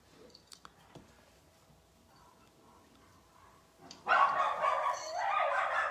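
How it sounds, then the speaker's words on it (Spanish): Small female dogs yapping in the background of a quiet indoor room, with a few faint yips early on, then a burst of louder, continuous barking near the end. "perdón por las perritas ahí que están dando lata"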